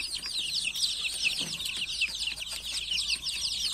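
Baby chicks in a nursery brooder cheep constantly in a dense, high-pitched chorus of overlapping peeps, fairly faint and steady with no voices.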